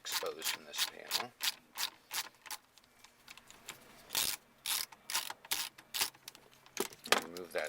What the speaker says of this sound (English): we're going to remove the screw on the right side of this that's exposed from this panel